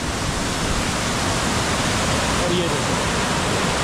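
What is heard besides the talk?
large mountain waterfall flowing heavily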